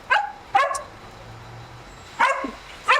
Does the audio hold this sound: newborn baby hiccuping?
no